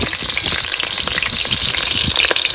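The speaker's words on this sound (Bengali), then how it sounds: "তুমি আলুটা ভেজে নেবো" Loud, steady crackling and sizzling of potatoes frying in hot oil in a wok, close up, with dense bright spattering throughout.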